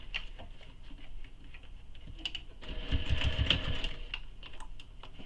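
A sewing machine top stitches along the edge of a Kayla Commuter Tote bag, a rapid, even ticking run of needle strokes that grows louder and denser midway before easing back.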